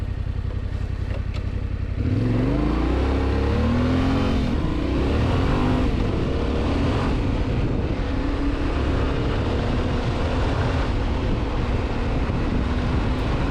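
A Yamaha Tenere 700 adventure motorcycle ridden on southern New Jersey forest roads. The engine kicks in after a quiet start, then revs up through rising pitch sweeps into a steady, loud drone with wind rush.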